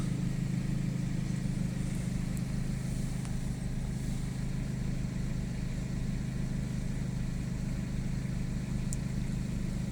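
A car engine idles steadily right after a cold start on a winter day, a constant low rumble close by with no talk and only faint clicks over the drone.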